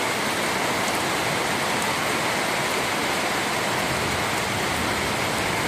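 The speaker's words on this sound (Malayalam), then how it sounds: "നല്ല മഴ." Heavy rain pours down in a dense, loud, unbroken roar of drops, close and constant throughout with no voices.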